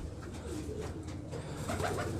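Fancy show pigeons kept by a breeder coo steadily in a low, rolling murmur, several birds overlapping close by with no talk, the cooing building slightly louder toward the end.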